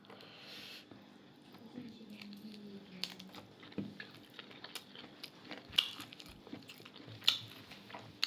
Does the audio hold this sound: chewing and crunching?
yes